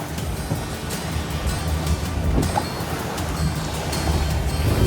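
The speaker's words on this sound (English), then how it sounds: "There's a big wave right there." Large ocean waves slam against a cruising boat underway, a steady loud wash of surf and water rush with wind buffeting the microphone, swelling slightly toward the end.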